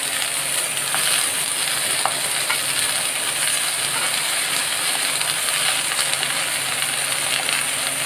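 Malabar spinach dropped into a hot frying pan for a Bengali curry with dried shrimp, giving a steady, even sizzle and hiss that runs throughout with no talking.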